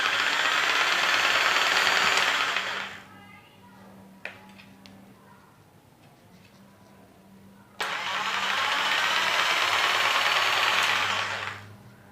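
An INGCO JS6508 jigsaw runs in two bursts, a loud, close, steady whirring motor that spins down into a quieter pause with small clicks, then starts up again at full speed.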